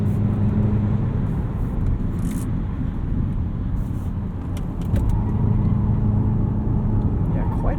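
A 2018 Jaguar E-Pace SE P250 in dynamic and sport mode drones steadily and loudly as its engine holds high revs, a low humming tone running unbroken through the whole stretch.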